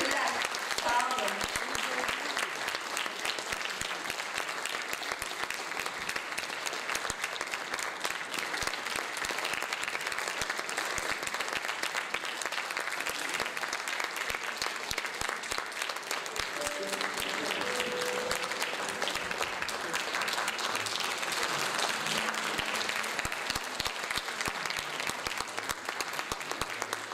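Sustained audience applause at a Turkish community choir concert, steady and dense for nearly half a minute, with faint voices and a few brief tones beneath the clapping.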